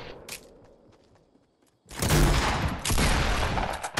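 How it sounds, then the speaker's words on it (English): Heavy gunfire erupts from several directions in a Fortnite Battle Royale squad match, starting with a quiet stretch of faint thuds before a loud, dense burst of overlapping shots that continues steadily to the end. "Getting shot from like six different directions."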